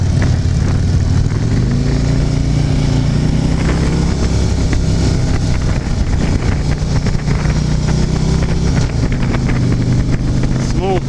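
A Harley-Davidson Street Glide motorcycle rumbles loud and close during a test ride at a Myrtle Beach bike week, its engine drone steady with shifting pitch as people talk over it.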